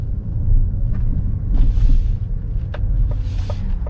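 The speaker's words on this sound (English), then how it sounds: "you will hear some extra noise from the tires that are in back, rubbing and moving a little bit" Steady low road rumble and tire noise inside a 2021 Ford Mustang Mach-E electric car while driving, with rear tires rubbing and shifting slightly, plus a few faint clicks and swells of wind-like hiss.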